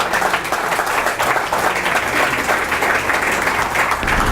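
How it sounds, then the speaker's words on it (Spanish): A church congregation breaks into loud, sustained applause, many hands clapping in a dense, even roar close by, with no voices rising above it. "un aplauso al Señor por la vida de Luisito"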